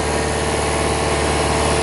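A diesel Audi A4 engine idles steadily during a DPF filter cleaning, a continuous low rumble with a constant vibrating throb, close and loud throughout, with no voices.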